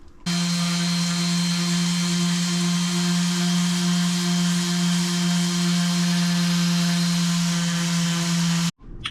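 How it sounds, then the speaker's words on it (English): Power sanding of a carved wooden cat clock with 80 grit sandpaper, a steady, close, loud droning hum with a constant pitch that runs almost unbroken before stopping abruptly near the end. "I'm going to sand here with some 80 grit."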